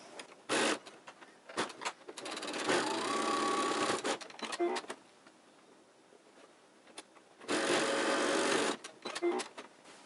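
A sewing machine stitches the seam of a fabric face mask, including a back stitch over the thread. Two loud, steady motor runs are separated by quiet pauses with small clicks and handling noises.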